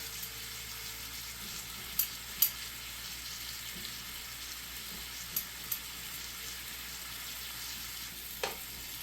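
Onion and meat frying in a pan give a faint, steady sizzling hiss, with a few soft clicks from stirring and no voices.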